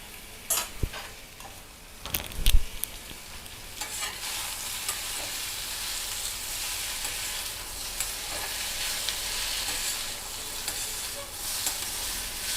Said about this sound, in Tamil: கிளறிட்டே இருக்க தேவையில்லை, அப்பப்போ கிளறி விட்டால் போதும்.